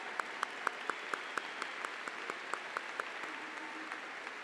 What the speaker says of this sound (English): Yes, please give them applause.